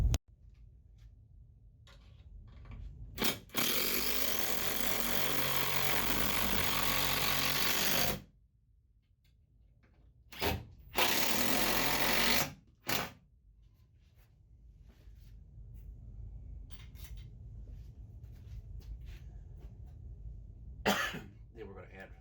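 A power driver runs screws through sheetrock into a wall to mount an Alabama map wall safe, giving two long loud buzzing bursts with short whirs between and quieter handling noise around them.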